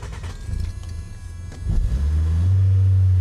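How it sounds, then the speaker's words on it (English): A carbureted Honda Prelude engine with a 5-speed manual, left in neutral, rumbles at a low steady idle after a brief rev, heard close and alone. "A carbureted engine, which required a little bit of revs"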